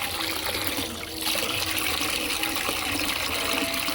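Tap water running and splashing as a child drinks from cupped hands at a faucet, a steady close rush of water heard alone.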